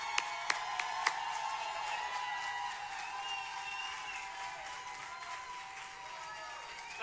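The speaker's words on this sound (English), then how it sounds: "we got to give her a big round of applause" Steady crowd applause at a 2018 general election night event in Burlington fills the space, a dense wash of many hands clapping continuously, with a few sharper claps standing out near the start.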